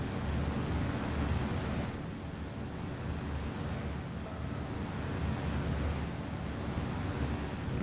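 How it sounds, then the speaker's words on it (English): Four Pratt & Whitney radial engines of a B-24 bomber droning in a loud, steady, dense roar from inside the aircraft, with a slight swell midway. "Four Pratt & Whitney radial engines powering the B-24."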